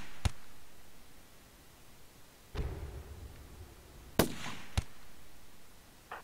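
Gunfire in the video game Rimworld, a few isolated sharp shots spaced seconds apart, fairly faint against a quiet background, no voices.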